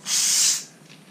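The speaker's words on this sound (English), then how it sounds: "Open a little bit, let the gas out. Good, gas coming out." Pressurised gas bursts out of a Sparkel sparkling water machine bottle in a single short, sharp hiss that fades fast, close and with no talk over it.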